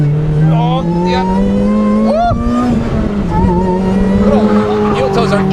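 A tuned Lotus Exige accelerates hard on a race track, with a loud, close, droning engine note that rises through the revs and changes pitch as gears shift. Faint tire noise is mixed in, and a voice is partly audible under the engine.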